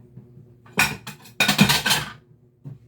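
Washed ceramic plates clatter and clink as they are stacked and put away, in two bursts of knocking around a brief pause, then a final single clink, close by with no talking.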